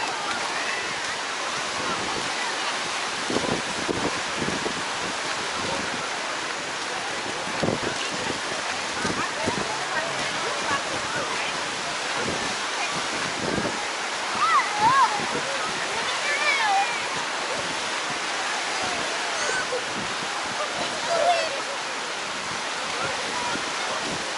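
Strong wind gusting along Clearwater Beach, Florida, a steady broadband roar of air mixed with surf, loud and continuous throughout with brief stronger gusts.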